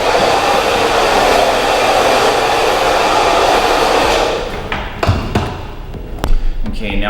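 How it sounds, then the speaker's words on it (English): A handheld hair dryer blows cut hair off after a dry long layered haircut, roaring loud and steady for about four seconds before switching off, followed by a few light handling taps and knocks. "I'm just going to blow this hair off."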